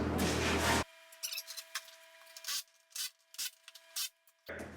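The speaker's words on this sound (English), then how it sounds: "So now I could snug up these 4 bolts." Four bolts being snugged up on the metal net frame of a hay barrel feeder, heard as a run of short, close rasping turns and scrapes between bursts of louder broadband noise.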